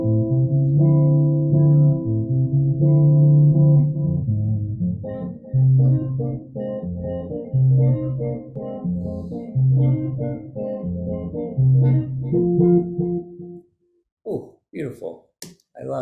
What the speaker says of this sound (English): Now we have a track that has reverb and delay.